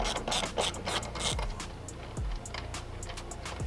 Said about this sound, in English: I'm going to remove the bolt up here.